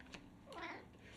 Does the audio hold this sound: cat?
yes